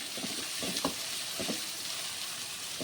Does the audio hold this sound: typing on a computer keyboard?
no